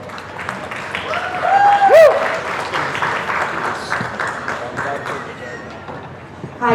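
Wedding guests applaud and cheer for the matron of honor at a ceremony and speeches, a dense, steady round of clapping from a crowd with voices mixed in, holding throughout at a close, fairly loud level.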